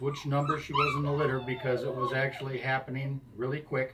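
Puppies from a litter of eight whimper and yip in the background while a person talks over them, their thin, high cries rising and falling between the words.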